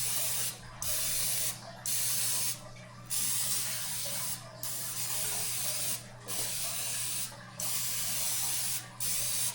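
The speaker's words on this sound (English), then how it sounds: "I'm spraying a little flavored butter cooking oil." Close-up hissing of butter-flavored cooking oil spray from a can onto a cooking dish, about eight short bursts separated by brief pauses.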